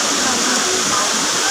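Daranak Falls roars as a broad, constant rush of falling water that fills the whole moment loudly and close, while a voice speaks faintly under the torrent.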